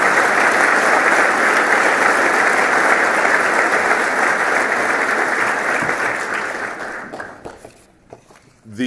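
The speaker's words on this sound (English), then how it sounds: "Please give my good friend a round of applause." Loud, sustained applause from a crowd that goes on for several seconds, then fades to a few scattered claps.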